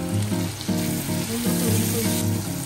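Shrimp frying in a pan for scampi shrimp pasta, giving a steady, loud sizzle that runs unbroken throughout, with a faint tonal hum underneath and no voices.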